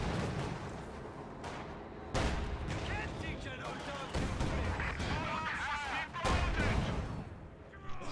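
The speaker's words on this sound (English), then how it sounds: "Stug gets a huge hit on that guard squad, up to 11 kills now" StuG assault gun blasts against an infantry squad in a WWII strategy game, heavy booms at intervals amid ongoing crackling battle noise, with a commentator talking over it.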